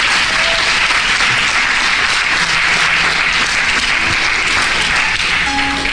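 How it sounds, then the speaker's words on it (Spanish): A church congregation breaks into loud, sustained applause, dense and continuous clapping that fills the room without pause. "Dale un fuerte aplauso al Señor"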